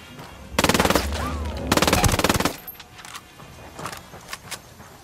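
Two loud sustained bursts of automatic gunfire from Ghost Recon Wildlands, each about a second long, followed by scattered quieter single shots and clatter.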